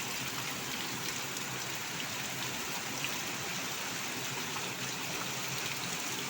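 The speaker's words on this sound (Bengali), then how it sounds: "দেখতেছেন আপনারা বৃষ্টিটা কি ধাসু হইতেছে, কি জোরে জোরে জোরে জোরে বৃষ্টি হচ্ছে দেখতে পাচ্ছেন" Heavy rain pours down steadily outside a house during the monsoon season, a dense, unbroken hiss of downpour close by with no voices over it.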